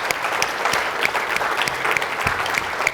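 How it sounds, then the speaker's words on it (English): A tech-conference audience claps for an industrial-automation engineering team, a steady, dense wash of applause with a few sharper claps standing out, sustained evenly for about three seconds. "So I'll give them a big round of applause."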